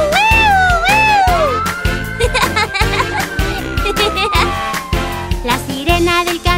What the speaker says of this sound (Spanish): La sirena del camión de bomberos suena.